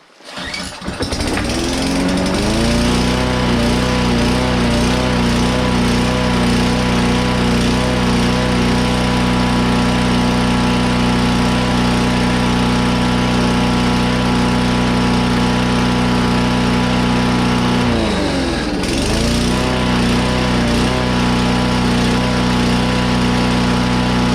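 A small petrol lawn mower engine starts up and runs at a loud, steady, high-revving drone, dipping briefly once before settling back to a constant roar.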